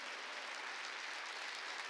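Church congregation applauding at a Wednesday worship service, a steady dense wash of clapping with no pauses, moderately distant and even in level throughout.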